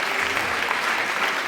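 Steady, dense applause from a high-school audience at a hypnosis show during a school ball, continuous and fairly loud with no talking over it.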